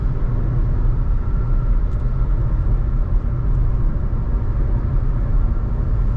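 Skoda Kushaq with a 1.0 engine and eight-speed automatic cruising on a highway at 100 km/h around 2000 RPM, a constant dense cabin rumble of engine, tyres and wind, steady and unbroken, without voices.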